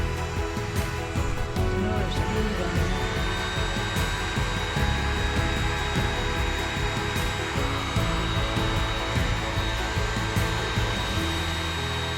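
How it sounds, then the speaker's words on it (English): A heat gun blows hot air steadily and loudly throughout during a lamp project, a constant whooshing roar with faint tool clatter and no pauses. "I have a heat gun. I'm going to try that."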